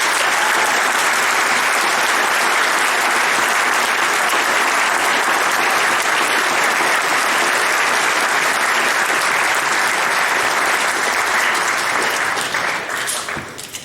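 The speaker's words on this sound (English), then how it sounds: "Would you please join me in a round of applause for all these individuals?" Sustained, dense applause from a large audience at a school Veterans Day assembly, steady and loud for about fourteen seconds before tapering off at the very end.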